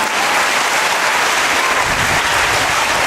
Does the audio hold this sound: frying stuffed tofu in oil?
no